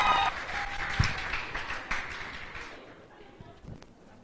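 Crowd at a 2021 closing ceremony applauding and cheering as names are called, a loud burst of clapping and shouts that gradually thins and fades over a few seconds, with a voice calling out over it.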